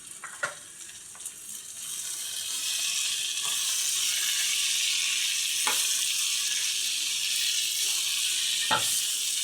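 Fennel seeds hit hot oil for Kerala prawn roast, bursting into a steady, bright sizzle that swells and holds, with a few soft clicks and pops of stirring over it.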